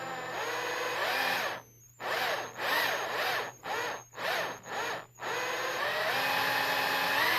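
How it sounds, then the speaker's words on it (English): A metal drill bit bores into an airsoft pistol compensator, a steady high whine cut by several short pauses as the bit stops and restarts, close and loud with no talk. "I've changed to a metal drill bit."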